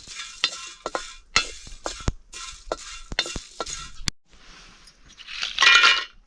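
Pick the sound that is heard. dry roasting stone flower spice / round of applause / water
dry roasting stone flower spice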